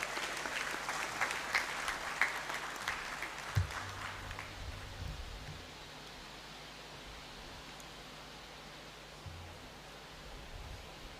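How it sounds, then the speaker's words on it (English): Audience applause at a university congregation ceremony in a great hall, a dense crowd clapping for about five seconds before fading into quiet room tone. "kindly join me with a round of applause"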